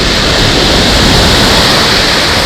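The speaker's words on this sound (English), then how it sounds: "I don't mind the waves coming over" Storm waves from Storm Arwen surge and crash over Sandgate Beach, a dense, continuous roar of surf and spray with steady loudness and no pauses.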